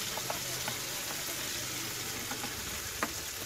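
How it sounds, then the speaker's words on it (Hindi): Tomatoes fry in a pan with a steady, close sizzle, broken by occasional soft pops and stirring scrapes, with no talking. "टमाटर को अच्छे से सॉफ्ट होने तक हम भून लेंगे"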